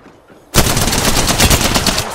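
Enemy gunfire in the Apex Legends video game bursts in suddenly and loudly after a quiet moment, a dense, sustained automatic volley of rapid shots with no talk.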